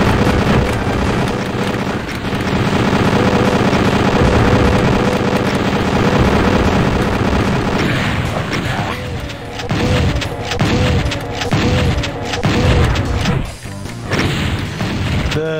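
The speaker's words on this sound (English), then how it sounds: "The Grand Theft Auto bullet ricochet sound is part of that shotgun sound effect" Shotgun blasts with a bullet ricochet in the video game Doom, loud and close, a dense run of booming shots and crashing impacts over a constant roaring game din.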